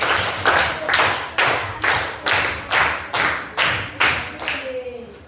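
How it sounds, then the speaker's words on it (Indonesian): A class of schoolchildren claps in unison in a classroom, about ten sharp, evenly spaced loud claps in a steady rhythm, each ringing briefly before the next. "Iya, beri tepuk tangan 10 kali."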